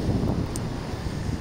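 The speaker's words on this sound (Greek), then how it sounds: "Σήμερα έχει και ένα βορειοανατολικό άνεμο." Steady northeasterly wind blows over the Ionian Sea at Lefkada, a continuous loud rush that buffets the microphone, with low roar and no pauses for the whole moment.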